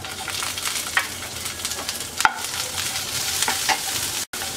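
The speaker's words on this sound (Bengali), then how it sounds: "পেঁয়াজ রসুনটাকে আমরা হালকা ভেজে নেব।" Chopped garlic and onion with dried chilli frying in mustard oil in a pan, a steady close sizzle with occasional stirring scrapes, no talk.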